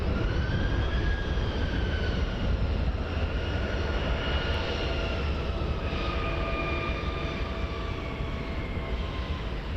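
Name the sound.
Embraer jet aircraft at Montréal-Trudeau Airport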